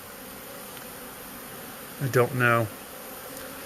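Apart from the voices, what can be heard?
honeybee swarm buzzing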